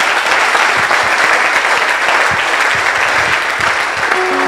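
A church congregation applauds and cheers for Jesus, with sustained, dense clapping from a large crowd that stays loud and steady throughout.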